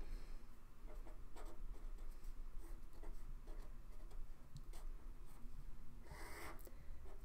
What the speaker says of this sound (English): So I'm gonna draw the circuit that I'm expecting to have to solve for